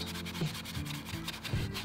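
Hand sanding of high-build filler primer on a Mazda MX-5 NC roll bar cover, quiet close-up rasping strokes in a quick back-and-forth rhythm with no voices.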